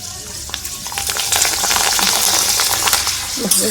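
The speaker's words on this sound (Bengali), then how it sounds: "আগে পাঁপড়টা ভেজে নিয়ে বাদ বাকিগুলো করবো" Papad frying in hot oil, a loud, close, steady sizzle with faint scraping and clinks, no speech.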